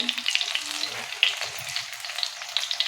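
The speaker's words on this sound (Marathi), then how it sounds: "तर अशा पद्धतीने सर्व वडे आहेत ना त्याच्या बाजू अशा पलटी करून घ्यायच्या" Taro leaf vadi shallow-frying in a little oil and being turned over, a close crackling sizzle with small pops and scattered spatula taps, with no talking.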